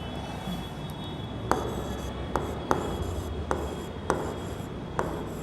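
Chalk or marker writing on a board during a maths lesson, a steady rubbing scratch with sharp taps roughly every second as strokes begin, close and alone with no talk.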